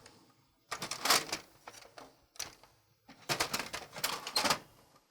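A Sawgrass Virtuoso sublimation printer runs a nozzle check, giving bursts of mechanical whirring and clattering from the print head carriage, separated by short pauses and heard close up without talk.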